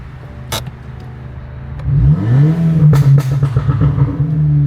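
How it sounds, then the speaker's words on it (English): A hybrid-turbo VW MK7 GTI engine revs up hard, a rising, sweeping engine note that climbs and then holds at a loud, steady high idle, close by with no talking. "I'll do an actual rev."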